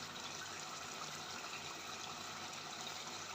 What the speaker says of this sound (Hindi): अब मैं इसके अंदर पानी डालती हूँ।